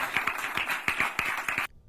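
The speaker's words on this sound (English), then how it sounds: "Clap, damn you!" An audience claps at a comedy performance in a loose, uneven patter of hands, moderately close, that stops abruptly into silence.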